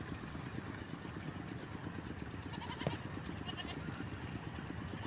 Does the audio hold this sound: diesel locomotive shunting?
no